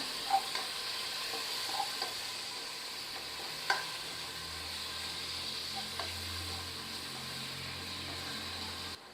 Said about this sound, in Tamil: ஒரு ரெண்டு மீடியம் சைஸ் தக்காளி அரிஞ்சு வச்சுருக்கேன் அதை நான் சேர்த்துக்கிறேன் சேர்த்து நல்லா கலந்து விட்டுக்கிறேன்